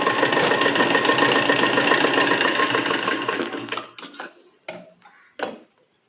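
A sewing machine stitching joined katori cups for a blouse in a round, a fast steady mechanical whirr that runs for several seconds, then slows and stops, followed by a few sharp handling clicks.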